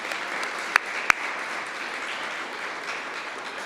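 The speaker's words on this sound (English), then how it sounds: "So I think a round of applause for our guests that came this morning as well." Applause for visiting guests at a university signing ceremony with an environment and parks ministry, a moderate, steady crowd clapping with two sharp, distinct claps standing out near the start.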